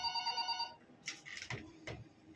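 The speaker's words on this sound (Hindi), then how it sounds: "लो अभी फोन भी आ गया।" A telephone rings with a bright electronic trill, then stops and gives way to a few soft clicks and rustles close by.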